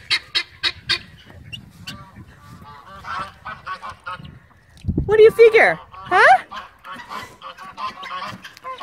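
A goose honks near its nest hut on a farm, loud repeated nasal honks in short bursts mixed with a voice talking close by.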